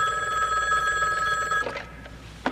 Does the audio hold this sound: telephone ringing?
yes